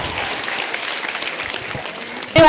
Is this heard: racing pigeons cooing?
no